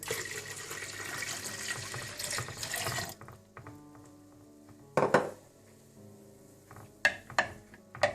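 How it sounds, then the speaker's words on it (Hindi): Ice-cold water runs from a tap into a bowl for a green chutney pani puri mix, a steady close splash for about three seconds, then quieter clinks of a spoon and dishes in a kitchen. "इन सबको अच्छी तरह से मिक्स करने के बाद आप इसमें पानी डाल दीजिए, बिल्कुल ठंडा पानी।"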